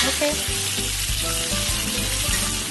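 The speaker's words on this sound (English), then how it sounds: "add about a tablespoon of coconut oil or healthy oil to assist in the frying of your ground beef" Ground beef sizzles and crackles steadily as it fries in coconut oil, with a few low knocks from stirring in the pan.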